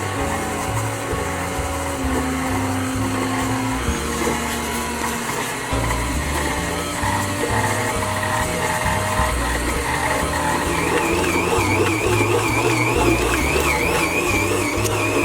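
Electric stand mixer working cookie dough, a steady motor whine with shifting tones and labored pitch changes as the dough thickens, running loud and continuous with no talking.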